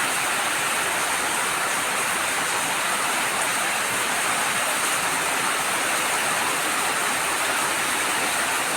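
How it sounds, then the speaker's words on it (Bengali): Heavy night rain falls steadily on a balcony with wet coconut palm fronds nearby, a dense continuous roar of downpour with no voices. "এবং প্রচণ্ড বৃষ্টির শব্দ।"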